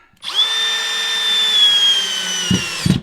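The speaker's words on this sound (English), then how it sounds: "So I'm going to add my second screw." A power drill drives a screw into a shelf with a close, loud, steady whine for about two seconds, followed by a couple of soft knocks as it stops.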